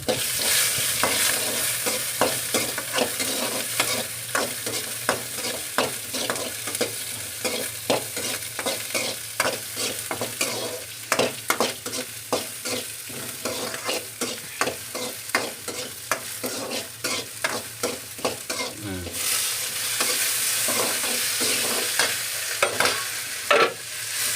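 Onions and curry leaves fry in a pan while being stirred continuously, rapid repeated spatula scrapes and clatters over a constant close sizzle for over twenty seconds, with no talking.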